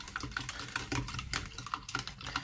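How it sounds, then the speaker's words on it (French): Food is mixed with the back of a fork, producing a quick run of light, close clicking and scraping taps in an irregular rhythm. "on va prendre donc l'arrière de la fourchette et on va venir mélanger comme ça"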